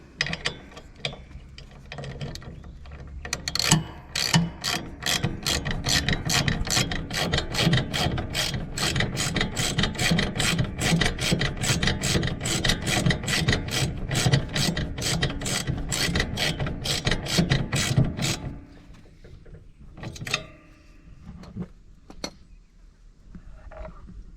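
A ratchet wrench tightens a 14mm nut on a Husqvarna TS 354xd mower deck, clicking in a fast, even run of close, crisp ratchet pawl clicks for about fifteen seconds before a few scattered clicks and handling noises.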